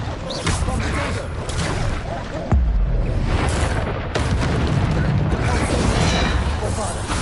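A Bombarda explosion spell in the video game Hogwarts Legacy goes off as a loud, heavy boom near the middle, amid constant crashing combat effects and rumbling that stay dense and loud throughout.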